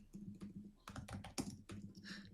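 Quiet, close typing on a computer keyboard: irregular bursts of crisp key clicks with brief pauses between them, heard alone over low background hum.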